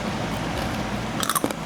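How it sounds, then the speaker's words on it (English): Deep-fried frog pieces from a Thai food stall are bitten into up close, giving a few sharp crunches near the end of a brief stretch of background noise. "so crunchy, so loud"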